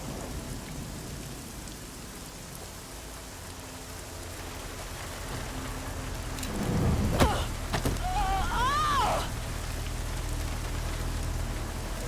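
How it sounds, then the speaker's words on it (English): Steady rain pours in the video game Deus Ex: Mankind Divided, and a loud rumble of thunder rolls through partway along with some whistling tones. No one speaks over it. "At least get us out of the rain."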